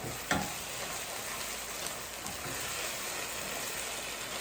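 Kimchi juice hits fried noodles in a hot pan and sets off a steady, close sizzle, a continuous crackling hiss with one small splash near the start and no talking.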